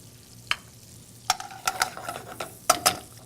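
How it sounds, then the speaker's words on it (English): Onions and fresh garlic sauté in a pan under a faint sizzle, punctuated by a few sharp utensil scrapes and clicks in quick bursts, close and fairly quiet. "And we're going to let that saute for a minute or so."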